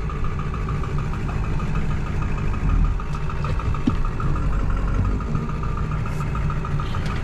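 A Ford Powerstroke diesel pickup truck, one that had sat unused for years, idles steadily close by with a rhythmic clattering knock over a low rumble, and no talk.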